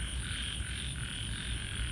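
Many frogs croak together in grassy ground after a night of heavy rain, forming a dense, continuous chorus with a steady high insect-like drone over it.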